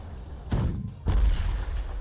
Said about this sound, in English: We attack with this artillery.